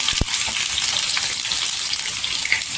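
Garlic sizzles steadily in hot oil with cumin, a loud continuous crackle and hiss close up, with one brief knock near the start and no voices.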